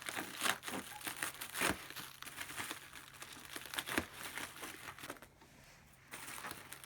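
Plastic food cling film is peeled and crinkled off a package in a quiet room, with soft, irregular rustles and crackles rising and fading over several seconds.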